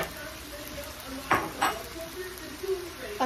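Pork pieces go into a hot pan for adobong sitaw, giving a steady close sizzle with a couple of sharp bursts as the meat hits the oil and is stirred, with light utensil scrapes and no speech.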